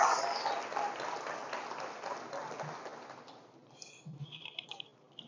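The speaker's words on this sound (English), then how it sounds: "So can you clap it up for the staff and admin team here as well" An audience at a school honor roll assembly applauds, a dense burst of clapping that fades over a few seconds into scattered claps and faint murmurs.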